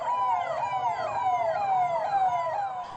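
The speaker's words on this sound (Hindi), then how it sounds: "सायरन बजाती दिल्ली पुलिस की गाड़ियां दौड़ी" Delhi Police cars race around a gurudwara with sirens wailing, loud overlapping sweeping tones rising and falling in quick cycles, close by and with no talk.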